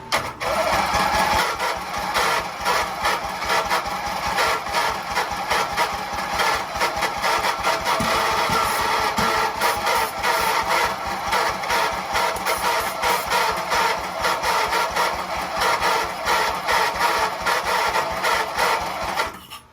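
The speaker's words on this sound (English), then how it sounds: "So we're just gonna keep playing around with it until we get some action, see if we can get it to idle." A streaker Jeep engine cranking and running rough as it struggles to idle, a dense mechanical clatter that stays loud and steady throughout at close range.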